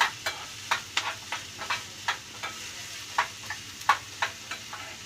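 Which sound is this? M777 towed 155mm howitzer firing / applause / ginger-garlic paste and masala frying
ginger-garlic paste and masala frying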